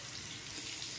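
Tap water runs steadily into a sink as a shaving lather bowl is being prepared, a continuous close hiss of flowing water with no break.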